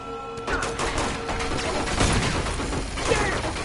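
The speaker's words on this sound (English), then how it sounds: "Oh yeah, definitely machine gun." Automatic gunfire from a machine gun in the video game Uncharted 2, dense and continuous bursts layered with crashes and mechanical clatter throughout.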